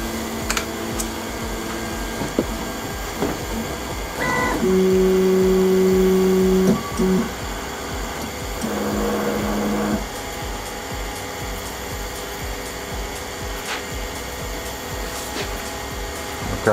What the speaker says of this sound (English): Let's home the printer.